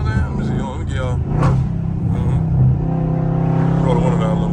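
A Dodge Scat Pack's engine in sport mode rumbles steadily from inside the cabin, a low continuous drone with a slight swell, while someone talks over it.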